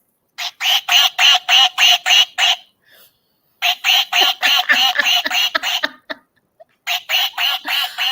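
A small toy duck lets out rapid bursts of bright, squeaky electronic quacks, about seven per burst in three close, loud runs separated by short pauses, with no talking.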